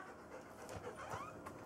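A dog pants quickly and steadily close by, soft breathy huffs repeating in an even rhythm, quiet and alone without talk.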